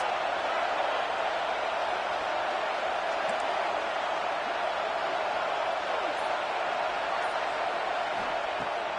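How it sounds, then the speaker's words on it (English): A stadium crowd in a college football video game gives a dense, steady roar of cheering that holds at an even level throughout, with no clear talk on top. "this crowd is coming to help the defense"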